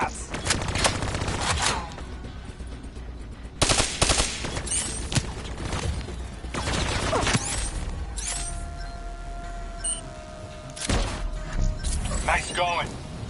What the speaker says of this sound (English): Shoot down those vats.